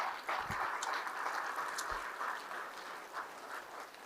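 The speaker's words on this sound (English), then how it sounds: "give a big round of applause to the board of directors for this great organization." A conference crowd applauds in a broad, steady wash of clapping that fades slightly toward the end, a few sharper claps standing out.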